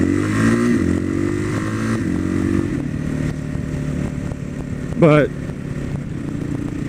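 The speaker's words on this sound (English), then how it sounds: "I can tell that it's winding out a little bit higher in 5th gear" A motorcycle engine winds out to higher revs in fifth gear, a steady droning hum running beneath a voice as he talks throughout.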